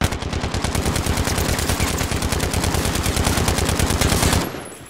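Rapid automatic gunfire in a shooter video game, a loud close burst of evenly spaced shots lasting about four seconds before cutting off abruptly.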